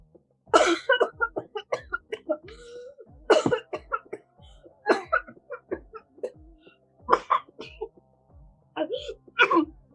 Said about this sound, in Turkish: Damadın amcası tekrardan öksürür